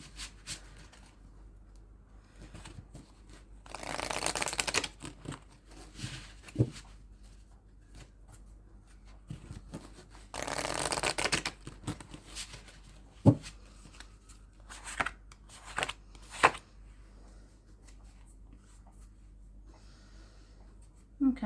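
Energy oracle cards being shuffled by hand in two longer bursts of soft papery riffling, then scattered light taps and card snaps, close and quiet with breathing between.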